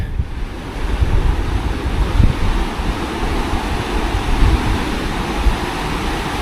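Steady, loud rush of churning water released through sluice gates at Portishead, with a broad roaring wash and gusty wind buffeting the microphone.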